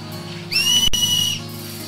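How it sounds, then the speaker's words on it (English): A character in the video game Final Fantasy X gives a cheering whistle for Blitz players: a shrill, sustained two-tone whistle lasting under a second over a steady background music drone. "Cause he whistled."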